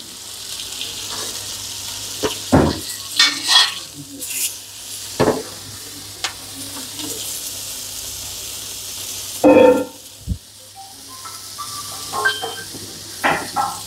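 Bangada mackerel frying on a tawa with black pepper gives a steady hissing sizzle, broken by a few louder scraping, spattering bursts from stirring or turning the fish close by.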